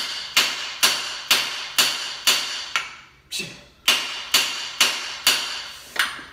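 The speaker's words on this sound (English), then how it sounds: "Hit it with the hammer." Sharp, ringing hammer strikes on metal at a steady rhythm, about a dozen blows with one short gap midway, close and loud.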